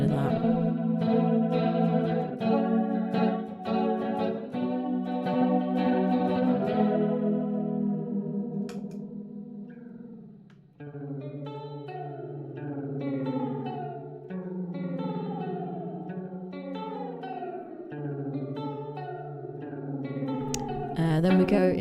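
Electric guitar played through a Subtle Rainbow Machine chorus pedal, strummed chords and then picked notes with a shimmering, warbling, slightly echoing tone, clear and upfront with a brief pause midway.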